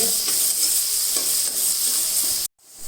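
Green chillies, ginger and onion frying in a kadai give a steady, close hiss with stirring scrapes, cutting out abruptly near the end before the sizzle returns briefly.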